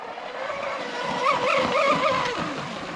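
A Proboat Mystic 29 RC boat with an upgraded brushless motor and Traxxas batteries whines past, a high wavering electric drone that rises and falls as it speeds across the water, moderately distant and alone.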